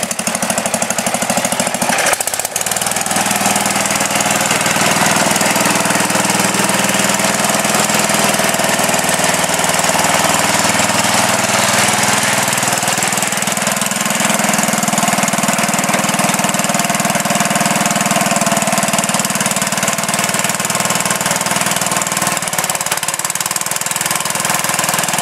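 A Suburban's engine roars steadily and loudly while the vehicle drives through a dug trench, with a continuous rough, laboring drone and no pauses.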